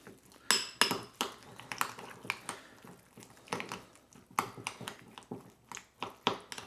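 Seasoning for parmesan-crusted crappie breading is mixed in a bowl, with a run of sharp scraping clinks of a utensil against the dish, close and moderately loud, in uneven bursts.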